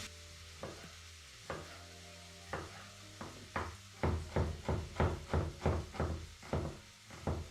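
Onions and garlic fry in a pan beneath a steady sizzle, and a utensil scrapes the pan in a regular rhythm of strokes that grows louder and quicker partway through.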